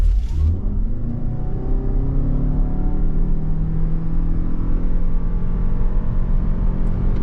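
A 2023 Toyota RAV4 Prime XSE AWD pulls hard from a standstill in a 0 to 60 run, its engine note climbing in a smooth, steady, loud drone heard from inside the cabin.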